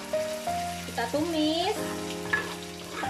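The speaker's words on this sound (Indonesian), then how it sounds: "Kita tumis bumbu halusnya yang isinya bawang merah, bawang putih, tumbar, miri" Ground paste of shallot, garlic, coriander, candlenut, ginger, turmeric and salt sautéing in hot oil, a soft steady sizzle with scraping stirs, overlaid by background music with shifting tones.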